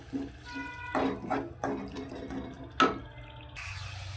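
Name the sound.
water poured into pan while cooking chole masala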